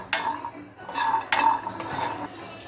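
Walnuts being dry-roasted in a pan for dry fruit laddu, with several distinct scraping stirs and clattering nuts against metal, close up, with faint sizzle between strokes.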